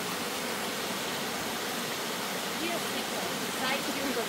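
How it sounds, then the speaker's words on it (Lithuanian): A waterfall roars as a broad, constant wash of falling water, close and steady from start to finish, with no talking heard. "Įlipau į Krioklį."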